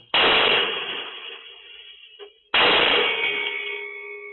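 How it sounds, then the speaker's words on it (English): Two loud blasts about two seconds apart, each with a sharp onset and a long ringing decay, heard from a distance. "Tiffany and Ross wake to the sound of two more explosions"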